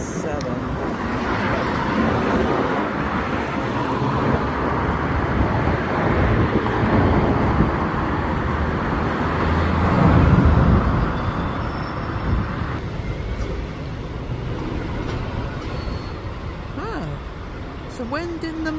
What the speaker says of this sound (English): And then of course another Alexander 500 MMC passes by